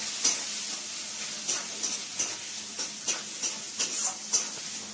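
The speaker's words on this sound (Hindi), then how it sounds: "तेल तो गरम है ही, तो डाल दीजिए प्याज" Onions fry in hot oil for a home-style potato and paneer curry: a constant sizzle overlaid by regular, rhythmic scraping strokes of a spatula about every half second, close and moderately loud, with no speech.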